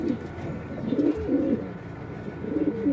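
Pigeons coo close by in soft, rolling phrases, repeated a few times over a faint background with no talk.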